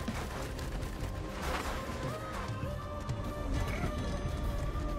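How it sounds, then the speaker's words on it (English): Will-O-The-Wisp explosions in the video game Risk of Rain 2 pop and crackle in rapid, scattered bursts over a dense layer of game action and music. "Those explosions that you're seeing, those are from Will-O-The-Wisp."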